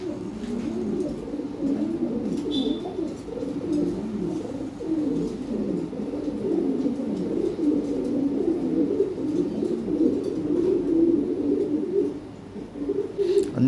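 Lahore Siraji pigeons in a cage coo continuously, a dense overlapping low murmur of several birds close by, with a brief chirp early on and no talking.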